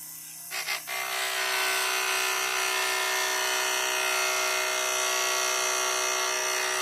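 A DC motor spinning at open idle with no load gives a steady, bright electric whine that starts after a couple of brief clicks and holds constant and close, with no talk.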